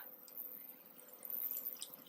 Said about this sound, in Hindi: इसको थोड़ा सा पानी डाल देती हूँ ताकि ये अच्छी तरह से मिक्स हो जाए